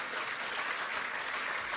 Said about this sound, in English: let's give the applause to Father and Mother Moon.